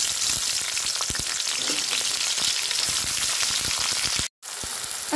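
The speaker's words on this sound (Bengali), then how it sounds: "এখন আমি পেঁয়াজ মরিচটা ভালো মতো ভেজে নেব।" Onion and green chili fry in hot oil, a loud, dense crackling sizzle with rapid pops throughout, close up, cut by a sudden brief dropout near the end.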